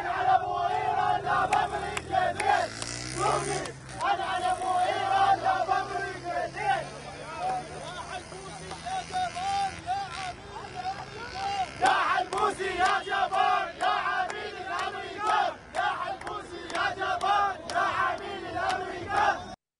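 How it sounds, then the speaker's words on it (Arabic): A crowd of protesters in Al-Qadisiyah, Iraq, chant loudly against parliament and its speaker, their rhythmic shouted slogans rising and falling over a dense babble of many voices. "وصارت هتافات من المتظاهرين ضد مجلس النواب ورئيسه"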